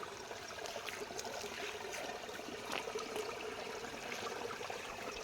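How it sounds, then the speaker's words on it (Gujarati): Faint, continuous trickle of a small stream after rain, heard from a short distance, steady throughout with no speech. "ને જો મીઠો મીઠો અવાજ આવે પાણીનો"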